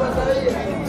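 Crowd chatter from people waiting in a temple queue at Tarapith, a steady close murmur of many voices in a brief burst.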